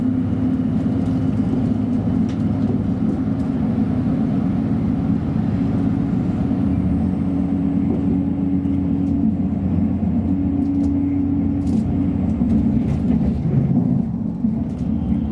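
Steady low rumble and hum of a passenger train running in Lancashire, England, near Stalybridge, heard from inside the carriage, continuous and fairly loud throughout.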